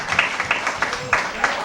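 Scattered audience clapping at a town hall meeting in Molineux, with individual claps spaced irregularly under a light murmur of voices.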